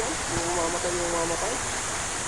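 A river in rural Quezon province runs with a steady, close, full-band rush of flowing water, and a voice speaks briefly over it.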